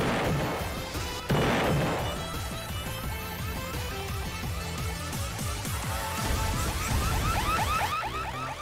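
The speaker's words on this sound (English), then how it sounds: "Oh, the missile broke." Missile breaking apart in the Roblox racing game Karting League, a sudden crash followed by a dense run of sharp clattering, popping impacts and chirpy game effects that continues loud throughout, with no talking.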